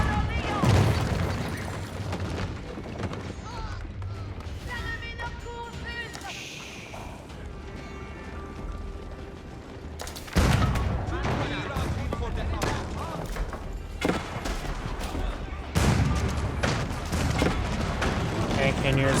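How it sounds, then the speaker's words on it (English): Volleys of cannon fire boom repeatedly during an Age of Empires 4 battle between the Delhi Sultanate and the French, heavy blasts crowding together in bursts beneath ongoing game commentary. "Cannoneers firing away."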